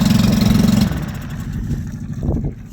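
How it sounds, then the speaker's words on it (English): A small Suzuki 4 horsepower four-stroke outboard motor in need of a service runs with a steady, pulsing putter that is loud at first, then drops to a softer, rougher idle with a few brief revs near the end. "Starts, needs a bit of a service, 4 horse 4 stroke, good wee engine"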